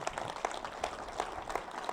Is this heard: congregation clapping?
yes